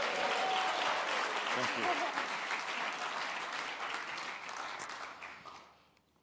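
An audience at a church leadership night applauds a guest speaker, with full, sustained clapping that gradually fades out; a voice briefly speaks over it.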